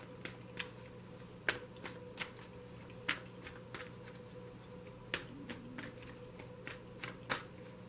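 A deck of angel romance oracle cards is shuffled in quiet, regular snapping flicks against a faint steady background hum, close and unaccompanied by talk.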